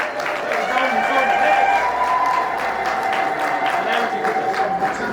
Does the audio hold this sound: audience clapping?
yes